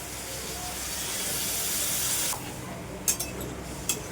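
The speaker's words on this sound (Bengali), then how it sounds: "এবার জল দিয়ে দেবো।" Water poured into a cooking pan of jute leaf curry with shrimp, a loud rushing hiss and steamy spray for two seconds that drops away, followed by a couple of sharp utensil knocks.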